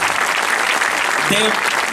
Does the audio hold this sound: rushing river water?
no